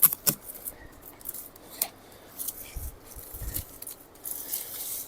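A knife cuts a pumpkin free from its dried vine outdoors, giving a few faint, brief snipping and scraping sounds at close range with quiet rustling in between.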